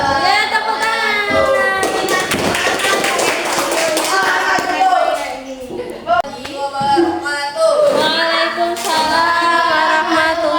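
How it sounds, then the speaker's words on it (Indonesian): Children in a fifth-grade primary classroom clapping their hands together, a loud dense burst of applause mixed with overlapping voices and chatter that carries on throughout. "Ya, tepuk tangan."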